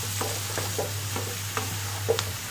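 A spoon stirs a black pepper spice mixture in a pan while preparing omurice, giving a series of light scraping strokes at a steady rhythm over a low, constant hum.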